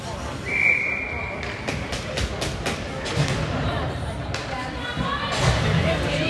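A referee's whistle gives one short sharp blast at a youth peewee ice hockey game in a rink, followed by crowd murmur, stick and puck clatter, and a commentator talking over the play.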